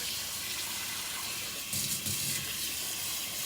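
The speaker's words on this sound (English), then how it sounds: "put some water in here so this can cook" Tap water runs steadily into a cooking pot for ackee, a continuous close splashing gush that briefly deepens as the stream hits the pot, with no talking.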